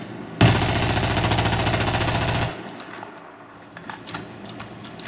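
An AEK rifle in Battlefield 4 empties a full magazine in one rapid, unbroken burst of loud, evenly spaced shots lasting about two seconds, followed by quieter clicks and faint game noise.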